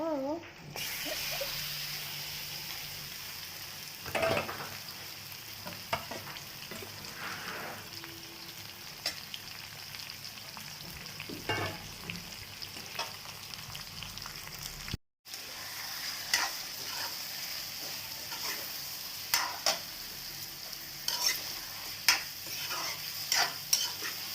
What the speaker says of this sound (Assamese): এয়া মোৰ পিঁয়াজখিনি অকণমান ভাজি হোৱাৰ পিছত ইয়া দি দিলোঁ মাংস।